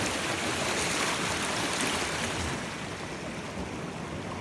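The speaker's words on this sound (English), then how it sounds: "It's amazing the flow from this body of water here." A strong, rushing flow of water pours through a pond outlet and stream where a dam was just removed, a loud, continuous broadband roar that eases slightly toward the end.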